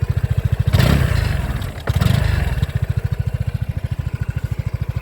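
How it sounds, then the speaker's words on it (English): A 2023 Vespa GTS 300 scooter engine with stock exhaust idles with a steady, rapid putter, briefly revving twice before settling back to an even, fairly quiet idle. "your scooter starts. Nice and quiet with the original exhaust."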